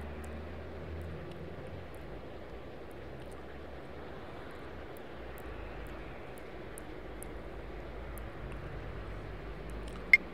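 Aircraft engines in the Tower 3D Pro air traffic control game at Memphis make a faint, steady distant drone throughout, with a brief soft click near the end.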